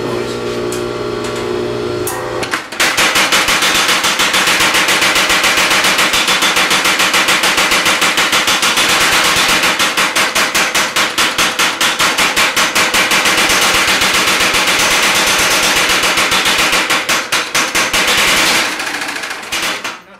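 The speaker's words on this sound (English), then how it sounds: "So just turn the power hammer on here and get ready for some noise." A loud power hammer pounds stainless steel in a rapid, steady mechanical rhythm that runs on for many seconds after a brief hum, close and overwhelming.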